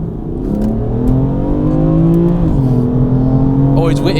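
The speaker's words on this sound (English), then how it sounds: "you put your foot down, you get the initial response that you would, then you can feel the turbos kind of spooling up" A 520 bhp tuned BMW M4 accelerates on a long road, its engine drone climbing steadily in pitch from inside the car, dipping briefly before a rising turbo whine builds near the end.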